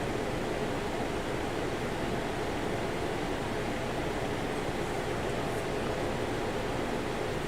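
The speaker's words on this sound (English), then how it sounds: "Yes, I am sitting next to a waterfall." A waterfall rushes close by in a steady, even roar of broadband noise that holds constant throughout, with no voices over it.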